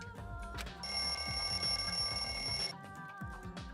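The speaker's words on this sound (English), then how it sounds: "The lounge's wall clock alarm started ringing at 5:30" A lounge wall clock alarm in Danganronpa 2 rings loud and continuous for about two seconds over a low, rhythmic background score, then cuts off abruptly.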